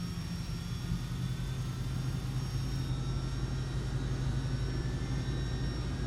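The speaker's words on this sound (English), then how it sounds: "Starting engine number 2 or 1." Engine spooling up on a FlightFactor 757-200 in the X-Plane 10 flight simulator, a steady low turbine roar with a faint high whine, continuous and fairly quiet, with no talk.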